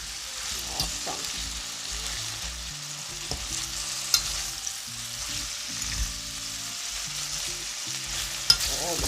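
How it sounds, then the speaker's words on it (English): Sliced peppers and onions sizzle steadily in hot oil for Jamaican escovitch fish, with occasional spatula stirs and scrapes over the constant frying hiss, close up and without talk. "Oh, the pepper is cooking."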